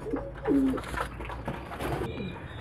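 Pigeons cooing in a breeding loft, a few soft, low throaty coos over faint background noise, close and fairly quiet.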